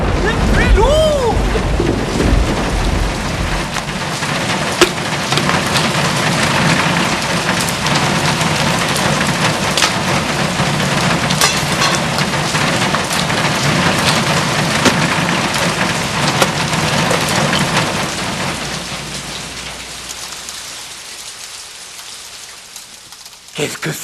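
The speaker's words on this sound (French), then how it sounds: "Une pluie lourde!" Heavy rain pours down in a dense, constant hiss with a possible low rumble of thunder, loud and unbroken before thinning out near the end.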